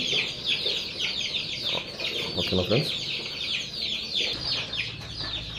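Young chicks at a poultry farm peep and cluck in a dense, continuous high chatter during vaccination, with someone speaking briefly over the flock.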